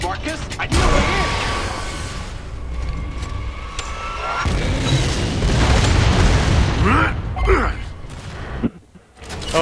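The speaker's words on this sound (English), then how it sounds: "Drop a mortar through the roof, Marcus." Heavy booms and crashing debris from a mortar blasting through a roof in Gears of War 2, several loud impacts with rumbling and mechanical clatter, voices briefly heard amid the chaos.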